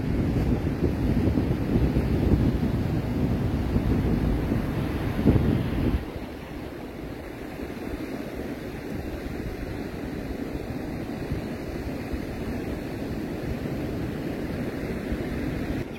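Strong wind buffets the microphone on Praia da Falésia beach with waves washing in behind it, a loud steady roar that eases slightly midway and then carries on.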